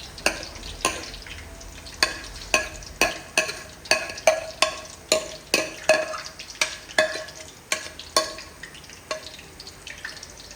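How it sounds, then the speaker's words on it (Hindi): Chopped tomatoes, green chillies and tinda pulp are stir-fried in a pan, a spoon scraping and clacking against the metal in a quick, regular rhythm over a soft sizzle, close and with no talk. "अब हम इसमें डाल देंगे टमाटर और हरी मिर्चें, वो भी चॉप करके डाली हैं।"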